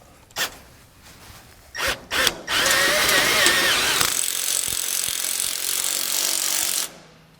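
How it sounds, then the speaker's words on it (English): A ratchet with a 10mm socket tightens a bolt on a load bar kit, producing a few short clicks followed by a dense, steady ratcheting burst that runs for about four seconds close to the microphone, then stops abruptly. "I'm using a 10mm socket."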